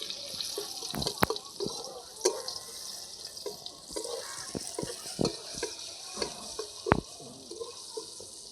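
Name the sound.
jute leaves added to frying garlic in pan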